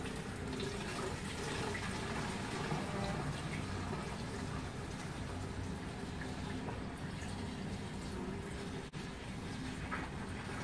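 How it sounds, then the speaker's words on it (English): Water rinses ethanol from a benthic sample of leaves and debris held in a sieve, a steady, close, broadband splashing rush that runs unbroken through the whole stretch with no voices. "So we'll basically sieve it and rinse all the ethanol off, and then we'll put it into a smaller container."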